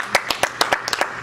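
A church congregation claps and cheers in praise of the Lord, with sharp, irregular claps repeating about every fifth of a second as a crowd keeps applauding.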